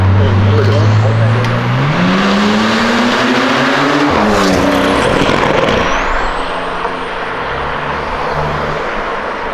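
A car with a TSI engine revs hard, pitch climbing steadily then dropping as it passes close by, with a second vehicle whining in the background and voices underneath.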